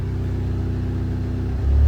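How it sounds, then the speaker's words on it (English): Volkswagen Golf R engine idling with a suspected exhaust leak after a tune, a steady close low rumble with even pulsing that grows louder and deeper at the very end; no talking. "Give this guys a listen. I'm just idling right now."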